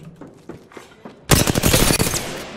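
In Apex Legends, a few sparse distant shots give way to a sudden loud barrage of rapid automatic enemy fire, close and sustained for over a second.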